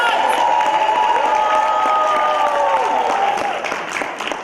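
A crowd at a Cameroonian diaspora entertainment show in Houston, Texas cheers and applauds, a dense, sustained roar of clapping with whoops and a few high shouts over it, loud throughout and easing slightly at the end.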